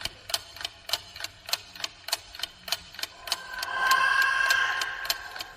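A clock ticks in a steady, evenly spaced rhythm, then a rising whirring swell builds behind the ticks as the hands spin fast, fading back to ticking; fairly close, with no talk.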